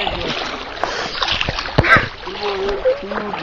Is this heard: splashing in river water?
yes